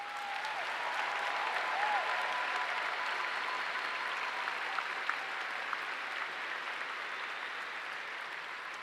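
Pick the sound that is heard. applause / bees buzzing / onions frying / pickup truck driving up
applause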